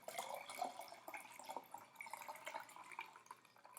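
Boiled water poured into a container of sugar water, a faint, steady trickling splash with small drips, close by and alone.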